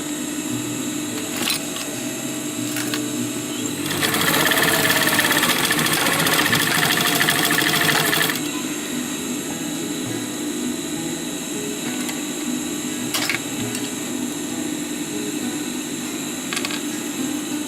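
A sewing machine stitches an elastic loop onto a pouch pocket for a tactical utility pouch, a dense burst of rapid needle chatter lasting about four seconds over a steady background hum, with a few faint clicks before and after.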